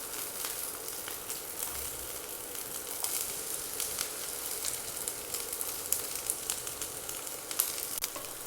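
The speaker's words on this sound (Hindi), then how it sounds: "प्याज को थोड़ा देर पका लेते हैं। प्याज को हल्का से भून लिए हैं।" Chopped onion, garlic and ginger fry in hot oil with a continuous dense sizzle and crackle, heard up close and alone. Faint stirring ticks pop up now and then.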